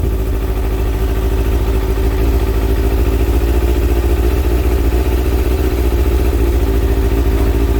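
A Kawasaki ZX6R J2 motorcycle engine idles steadily with a loud, close, even low throb and mechanical clatter throughout while its carburettors are being balanced, with no voices.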